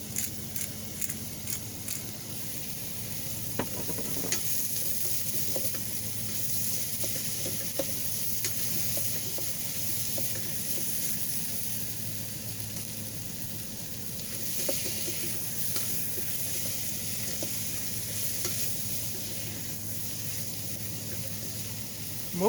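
Steak frying in an Instant Pot set up on a truck, seasoned with fresh pepper, giving a continuous close sizzle with occasional scraping and clinking as it is stirred.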